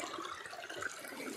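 Steady broadband rush of a distant waterfall at an unexplored spot near Dehradun, a continuous even wash of falling water with no voices.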